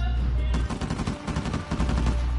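Video game gunfire rings out in rapid bursts, with automatic weapon fire rattling close and loud in several quick volleys.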